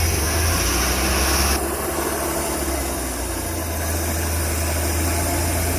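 A Pinzgauer engine idles steadily after a choked start, a close, continuous low rumble with a slight change in tone partway through and no talking over it.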